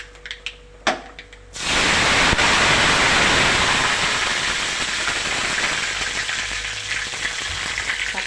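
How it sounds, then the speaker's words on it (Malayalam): A few light clicks give way to a sudden loud, continuous crackling sizzle as mustard seeds splutter and pop in hot oil close by. "നമ്മൾ കറി കടുക് പൊട്ടിക്കുകയാണ് കടുക് താളിക്കുകയാണ്"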